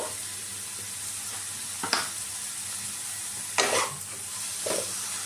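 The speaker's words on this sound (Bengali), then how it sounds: "ক্যাপসিকাম পেঁয়াজকে আমি কিছুক্ষণ ভেজে নিয়েছি।" Capsicum and onion frying in a pan with salt, a constant bright sizzle broken by a few sharp spatula scrapes and stirs, close and alone without speech.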